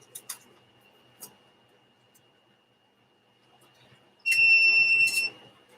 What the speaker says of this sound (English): I don't know if this thing is beeping because I've got chicken eggs in there this time